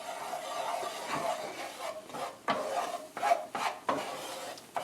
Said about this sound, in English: scrape up some of the bits